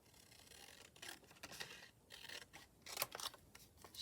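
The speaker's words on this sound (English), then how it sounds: "Maybe I will cut them with my scissors now." Quiet snips and rasps of scissors cutting out paper pictures for handmade cards, a few close crisp cuts spread across a calm, near-silent room.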